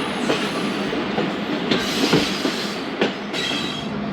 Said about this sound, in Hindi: 2:38 पर ट्रेन रवाना हो रही है शुजाबाद रेलवे स्टेशन से।